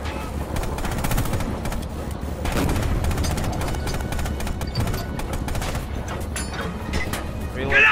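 Rapid machine gun fire in the war game Panzer In The Mist, sounding as steady, dense bursts of gunshots over battlefield rumble, loud and continuous throughout.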